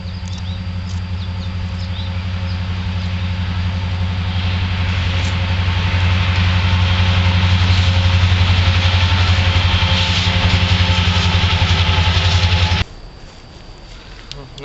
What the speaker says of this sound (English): Now that that train has passed,